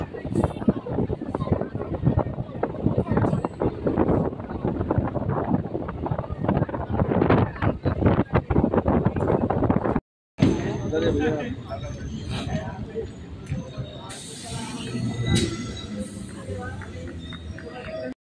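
Train leaving a station in North 24 Parganas rumbles and rattles along the tracks in a dense, continuous roar with wind buffeting, after a short break the clattering carries on more lightly with some voices around.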